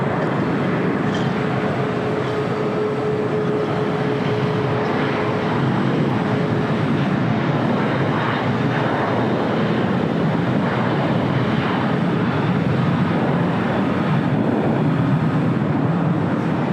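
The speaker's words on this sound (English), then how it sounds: "Next takeoff here on the south side is JetBlue Airways Flight 1700 heading to Fort Lauderdale," A JetBlue Airways Airbus A321 takes off from LAX, a broad sustained jet roar that holds loud and steady throughout, roughened by wind buffeting on the microphone, with no voices.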